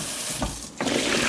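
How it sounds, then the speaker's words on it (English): Running water from a kitchen tap rinses fruit and vegetables, a close steady rush with a couple of splashy surges. "And I just keep rinsing so I don't see any more soap bubbles usually."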